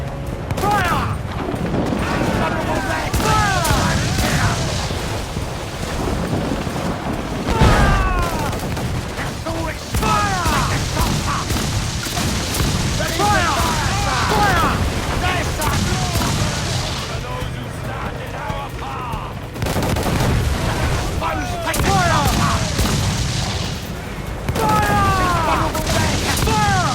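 Ship cannons fire in the pirate naval combat game Assassin's Creed IV Black Flag, with repeated booming volleys and crackling gunfire across a dense, continuous battle din, while voices shout over the fighting.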